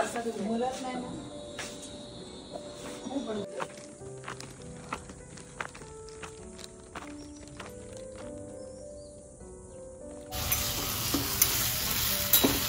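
Food frying in a pan with stirring, a steady sizzle and scraping clatter under a home kitchen's background, with a louder, harsher burst of sizzling near the end.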